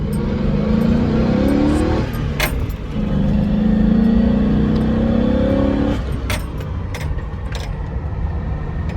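A 1999–2006 GMC Yukon Denali truck swapped to a manual gearbox with a short-throw shifter pulls hard through first and second, its engine droning loud and rising, dropping briefly at the shift, then easing off with clunks.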